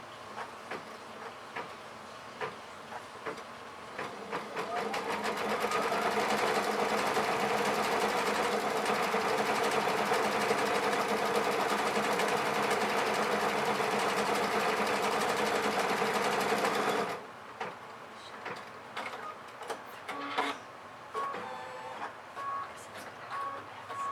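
Computerized quilting machine stitching a background fill on an appliqué block: a steady, loud mechanical whir that runs for about twelve seconds after startup clicks, then stops abruptly, followed by quieter ticking.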